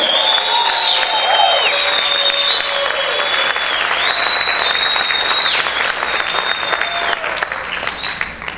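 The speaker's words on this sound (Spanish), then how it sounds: "¿Cuántos pueden gritar y cuántos pueden aplaudir fuerte al Rey?" A church congregation applauds loudly and continuously, with shouts and whistle-like cries rising above the steady clapping throughout.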